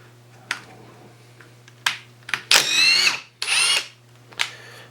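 A Ryobi impact driver on speed 2 drives a screw in short bursts: a few quick clicks and blips, then two longer rattling hammering runs and a final brief burst, loud and close with no talk.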